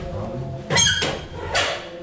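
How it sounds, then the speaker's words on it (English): A heavy door aboard a large cargo ship opens and then closes, two loud broadband bangs a moment apart, heard over low rumbling background noise. "that was the loudest goddamn door I've ever heard"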